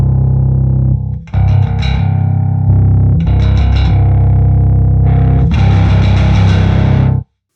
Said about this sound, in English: So we turn on the hot, we just get the top end distortion, turn on the growl.